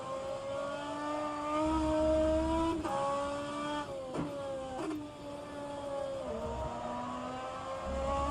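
Video-game BMW DTM race car engine at Spa droning steadily for several seconds, its pitch climbing and dipping through gear shifts with brief drops, loud and continuous without talk.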